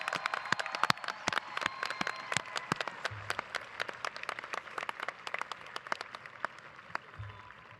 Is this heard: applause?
yes